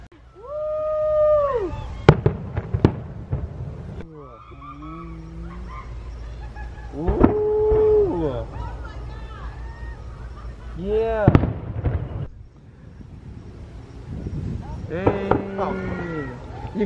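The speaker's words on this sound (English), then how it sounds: "Look at those fireworks." Fireworks testing at Magic Kingdom, heard from the Polynesian Resort, with several sharp distant bangs and pops scattered across the scene while people talk and react nearby.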